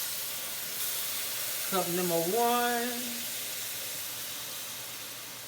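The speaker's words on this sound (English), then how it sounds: "Damn, that steam burning my damn hand." Steam hisses steadily from a pot while crawfish and shrimp corn bisque cooks, a broad soft wash of noise that runs throughout, with a brief spoken phrase partway through.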